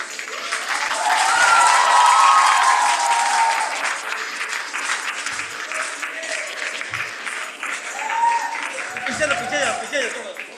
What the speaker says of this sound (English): A big round of applause everyone for all our volunteers.